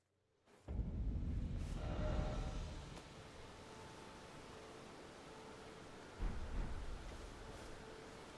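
Lightning strike and rolling thunder in the video game Elden Ring: a sudden loud crack that rumbles on for a couple of seconds, then a second, softer strike later amid a steady storm-like hiss.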